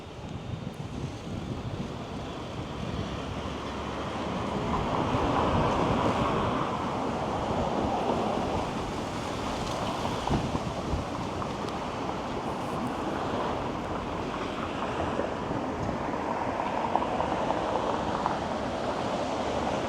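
Strong wind gusts roar across the microphone on Bathurst Street in Toronto, a steady, loud rushing that swells and eases for the whole stretch, with no talking.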